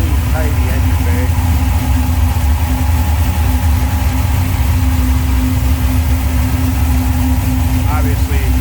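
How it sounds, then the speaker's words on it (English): Built 440 V8 in a 1968 Plymouth GTX idling under the open hood, a steady low rumble running the whole time with a faint whine above it. "Obviously built 440. Looks and sounds like it."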